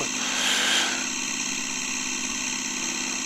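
A light aircraft engine during a run-up magneto check, holding a steady loud droning hum with a slight swell early on, then settling into an even, continuous tone.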